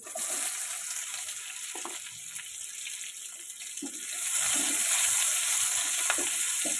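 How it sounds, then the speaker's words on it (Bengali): Chopped onion frying in mustard oil in a wok while cooking a rohu fish head dish, a continuous bright sizzle with occasional stirring scrapes, growing louder midway, no talking. "পেঁয়াজটা আমি লাল লাল করে ভেজে নেব।"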